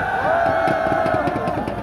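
Crowd of marathon runners at the start of the 2023 Chuncheon Marathon cheering, a sustained outdoor roar with a steady tonal hum beneath and scattered voices.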